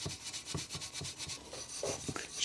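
Wire wool rubbed firmly back and forth against a rusty old motorcycle exhaust, a close, steady scratchy scrubbing with regular strokes about twice a second and no talking.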